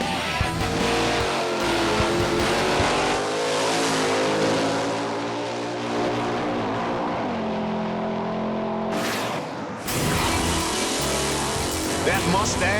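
A Mustang drag race car at Bandimere Speedway roars as it accelerates, its engine note climbing in pitch, then a brief gap before another loud burst, with an announcer talking over the noise.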